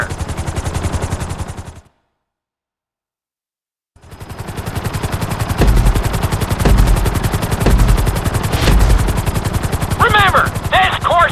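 A helicopter in GTA 5 beats with a steady rapid rotor chop during flight school, loud and close, cut by a two-second silence, then resuming with thumps and brief squeals, while an instructor talks over it.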